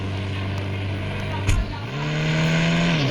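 A car engine in a video game hums at a steady idle pitch, then climbs into a rising, sustained rev after a brief thump, with no talking over it.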